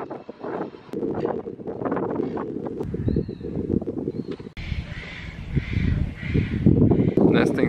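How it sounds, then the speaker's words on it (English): Seagull calls from a nesting bird on Cockatoo Island, a former industrial and prison site, come as short harsh cries in a windy outdoor setting, with wind buffeting and people talking nearby. "Nesting seagull."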